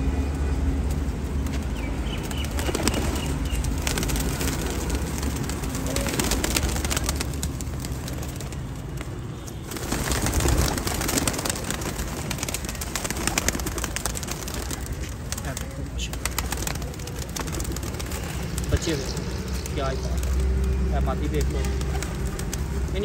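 Pigeons coo repeatedly nearby over a busy background, while someone talks over them.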